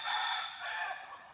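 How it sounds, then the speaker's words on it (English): Chickens roosting by the hundreds in a tree at a Thai temple, a loud close rooster crow ringing out alone in one sustained call. "There's maybe hundreds of chickens here."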